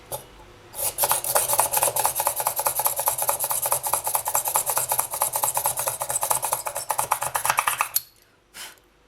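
Hand-drilling a hole through polymer clay: a steady, fast rasping grind runs for several seconds without a break, then stops abruptly, followed by a short brief scrape; close and fairly loud.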